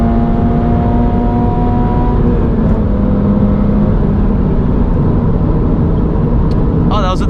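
A 2022 Subaru BRZ engine roars steadily at high revs at full throttle from about 62 mph, loud and close, a sustained drone of hard acceleration heard from inside the cabin.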